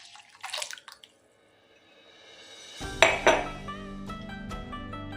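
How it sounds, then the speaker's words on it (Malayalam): Blended watermelon and milk pour into a vessel for a milkshake. A few light clinks of utensils come first, then a steady liquid gurgle begins with sharper clinks and continues to the end. "പാത്രത്തിലേക്ക് അടിച്ചു വെച്ചിരിക്കുന്ന വാട്ടർമെലൺ ഒഴിച്ച് കൊടുക്കാം. കൂടെ 200 ml മിൽക്കും കൂടെ ഒഴിച്ച് കൊടുക്കാം."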